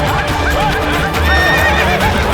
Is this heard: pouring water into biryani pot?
no